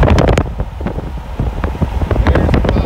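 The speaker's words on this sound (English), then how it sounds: "Sorry if it's a little windy" Strong wind buffets the microphone outdoors after a December tornado, producing loud, low, irregular rumbling gusts close up for the whole stretch.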